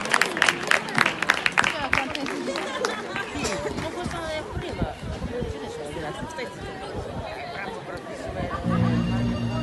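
An audience claps and chatters for a singer in a studio, with scattered applause and crowd murmur under talking voices, fading before a low musical tone enters near the end.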